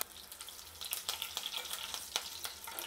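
Mustard seeds, cumin, hing powder and curry leaves fry in hot oil for a Maharashtrian masoor and moong amti, giving a quiet, close, steady crackling sizzle with scattered popping and stirring scrapes, no talk.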